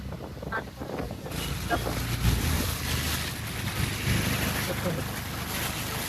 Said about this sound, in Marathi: आणि आता इतका पाऊस पडतोय एवढा पाऊस होता